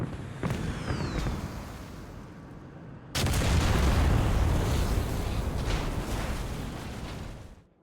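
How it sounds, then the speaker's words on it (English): Bombs dropped by an F-84 jet burst on a base in the Korean War flight game IL-2 Korea: a sudden heavy blast at about three seconds becomes a loud, sustained rumble over steady engine drone, with a few sharper cracks earlier. "we'll come in here and pickle. And I think that landed pretty much in the same place as the last one"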